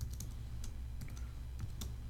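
Quick, close keystrokes on a computer keyboard while code is typed, a sparse irregular run of light clicks over a low steady room hum.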